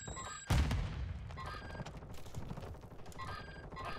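Gunfire in Call of Duty: Warzone 2.0, a loud burst of several shots at the start, then sustained rattling and booming combat noise that continues steadily through the rest of the moment.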